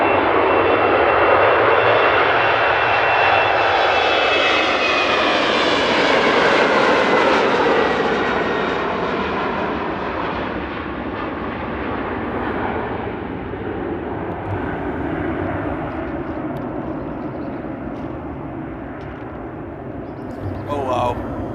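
A jet airliner roars on takeoff at Amsterdam Airport, a loud, sustained engine thunder that builds, sweeps past and slowly fades into the distance.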